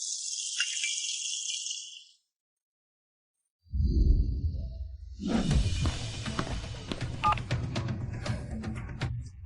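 Telephone dial tones play as a phone call is placed: a run of bright tones, a short silence, then louder rattling handling noise and clatter from the handset.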